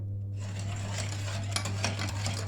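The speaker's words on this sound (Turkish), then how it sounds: "Evet karıştırıyoruz." A utensil stirs a pudding mixture in a bowl with soft, continuous scraping and light clinks, close and fairly quiet, with a steady low hum underneath.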